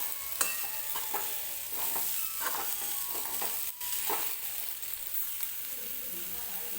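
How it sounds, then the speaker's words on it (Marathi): Boiled drumstick pods are stir-fried in masala in a pan, giving faint scraping stirs and a low, soft sizzle with occasional light knocks from a spoon. "शेवग्याची शेंग जी शिजवून घेतली होती ती टाकून घेते आणि ती सुद्धा 1-2 मिनिटं या मसाल्यांमध्येच परतून घेते"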